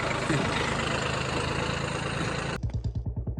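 A steady, loud tractor engine drone runs continuously, then shifts to a slower, lumpy chugging idle with rhythmic low pulses near the end.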